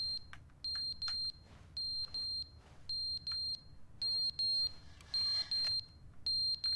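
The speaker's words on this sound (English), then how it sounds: "Oh, it's the fire alarm." Fire alarm in the video game The Stanley Parable, repeating loud, piercing electronic beeps in short regular bursts about every half second, over a faint low background hum.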